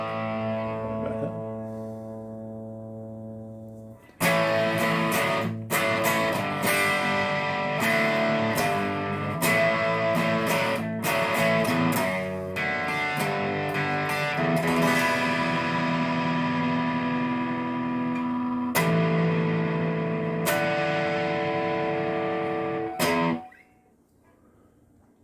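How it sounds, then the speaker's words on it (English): Les Paul electric guitar played through a King of Tone overdrive pedal set with distortion at 7 and tone backed off, giving sustained distorted chords and notes with sharp strums and pauses, loud and close, then a ringing fade at the end. "Here it is with the distortion at 7, backing off the tone."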